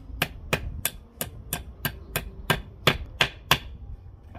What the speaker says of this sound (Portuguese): Vou tentar bater um grampo para ver se vai também.